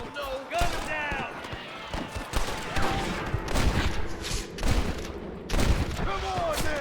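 Rapid gunfire in a Red Dead Redemption shootout, with shots cracking over and over amid shouting voices and game noise, loud and busy throughout.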